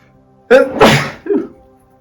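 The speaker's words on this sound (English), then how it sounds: "I'm going to sneeze." A single loud sneeze close by, a sharp intake followed by an explosive burst and a short trailing sound, with silence around it.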